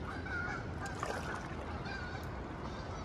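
Wild geese honk at the Niagara whirlpool in Ontario: a few faint, distant honks ring out over steady outdoor rumble and water noise, with no talk.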